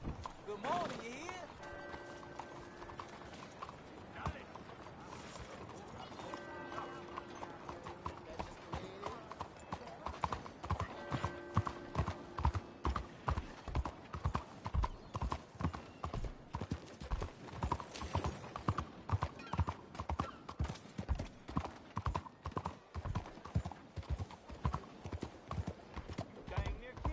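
A horse's hooves clip-clop in a clear, regular rhythm that grows louder and steadier partway through, close by, with talking voices over the early part.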